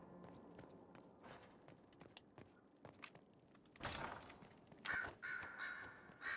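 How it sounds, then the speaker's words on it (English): Crows caw faintly in the Dragon Age Inquisition video game, scattered calls over quiet ambience with a few soft footstep-like taps and a louder burst of game sound near the end. "Why are there so many birds here?"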